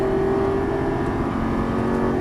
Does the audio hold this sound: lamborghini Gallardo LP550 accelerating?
yes